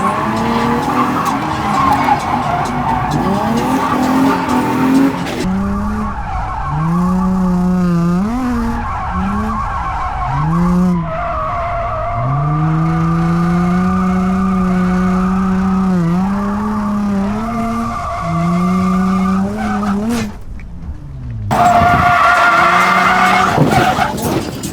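A worn Infiniti G35 drifting on a track, tires squealing in long wavering screeches over a revving engine, sustained and loud with brief gaps as the car transitions.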